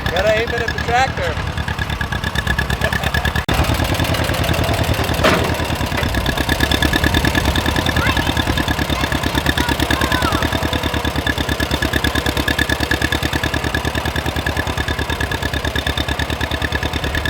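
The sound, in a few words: John Deere tractor engine idling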